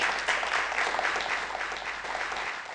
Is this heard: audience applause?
yes